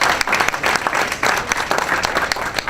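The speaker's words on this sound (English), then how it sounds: "Let's give her a round of applause." Audience applause at a Hispanic Heritage Month kickoff event in a library, a full, loud round of crowd clapping that stays steady and continuous throughout.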